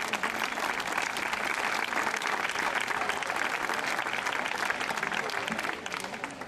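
A crowd at a rowing league event in Trapagaran applauding the crews, dense continuous clapping, steady and moderately distant throughout.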